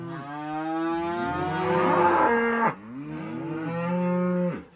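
Several weaned calves on a cattle farm moo loudly and continuously, overlapping calls swelling and breaking off, close by with no talking.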